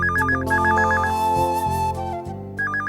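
A phone rings with a repeating electronic ringtone, loud and close, in bursts of chirping tones over a musical backing; no one speaks.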